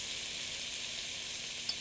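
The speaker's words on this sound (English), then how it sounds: "And I can add little bit of soya sauce now." Soy sauce splashed into a hot wok of chili beef and shrimp fried rice, giving a steady, close hissing sizzle that holds evenly throughout, with no talking.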